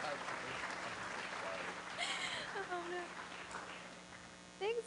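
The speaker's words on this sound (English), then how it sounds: "round of applause." Applause from a Rotary Club of Denver luncheon audience welcoming a board member of Denver Kids, a fairly quiet, steady patter across the room with voices murmuring through it.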